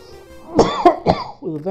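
A man's three quick, harsh coughs in close succession, near and loud, followed by a short throat-clearing rasp, from a streamer whose lingering cough has returned.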